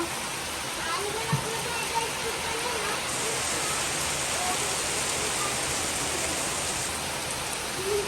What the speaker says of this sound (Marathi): खूप मोठा पाऊस आला